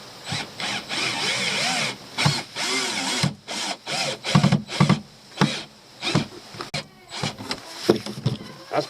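A power drill drives screws into wood while fitting a rod holder on a small boat, heard as short bursts of whirring with gaps between them, close and fairly loud.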